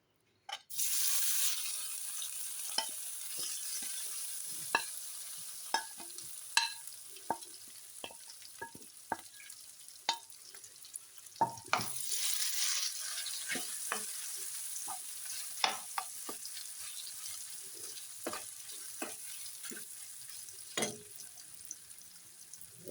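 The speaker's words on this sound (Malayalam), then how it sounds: "നമ്മുടെ എണ്ണയൊക്കെ നല്ല തിളച്ചിട്ടുണ്ട്." Ground spice paste sizzling and frying in hot oil, a steady hiss broken by frequent sharp pops and crackles, with occasional stirring and utensil clinks close by.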